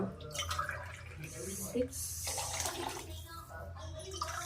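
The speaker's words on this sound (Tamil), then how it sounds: "400 ml தண்ணி ஊற்றுறேன்" About 400 ml of water splashes and trickles steadily into a cooking pot, with running-water noise throughout and a few brief drips and clinks.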